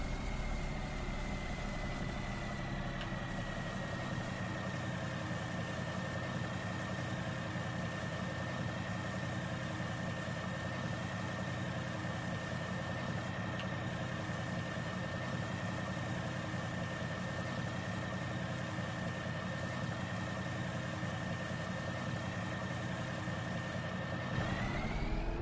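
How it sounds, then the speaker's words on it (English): Tractor engine idling in Farming Simulator 19, a steady continuous drone with a constant whine above it, holding level and unbroken for the whole stretch with no talk. "This tractor's so sweet. It sounds really good and it drives good, it pulls good."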